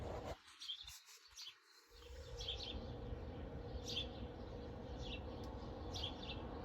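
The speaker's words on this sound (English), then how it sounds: "That's so beautiful, those birds." Birds chirp in repeated short high calls over a steady broadband outdoor hum, moderately distant, with no one talking.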